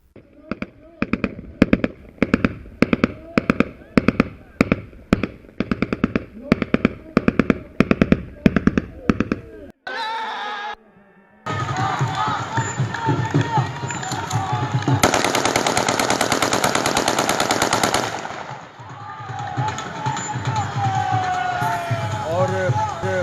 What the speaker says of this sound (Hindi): ज़रा देखें पंजाब का के दो हलके जो हैं वहाँ पर फायरिंग किस